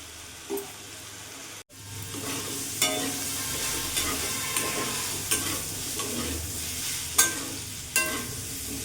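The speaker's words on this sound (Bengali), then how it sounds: "পুরো আলুটাকে ভালো করে ভাজা ভাজা করে নেব।" Potatoes fry in a pan with a little turmeric, giving a steady close sizzle broken by repeated stirring scrapes and clinks at irregular intervals.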